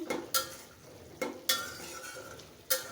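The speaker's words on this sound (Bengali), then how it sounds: "সজনে ডাঁটাটা কষিয়ে নিচ্ছি" Drumstick stems sautéing in a pan for a thin rohu fish curry: a soft, low sizzle under repeated spatula scrapes and stirs at irregular intervals, close by and fairly quiet, with no talking.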